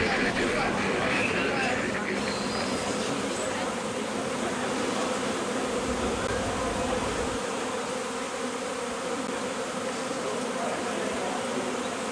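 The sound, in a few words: swarming honey bees buzzing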